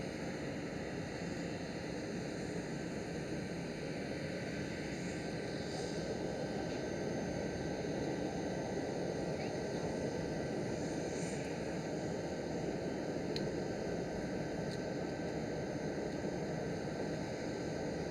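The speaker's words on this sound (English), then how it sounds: "Right here an A330 Neo taxiing towards the runway" An Airbus A330neo airliner taxis towards the runway at Amsterdam Schiphol, heard as a steady, broad jet engine roar and whine at moderate distance, unchanging throughout with no talk.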